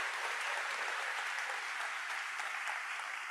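Steady applause from a crowd at a high school graduation, dense and continuous clapping throughout with no talking.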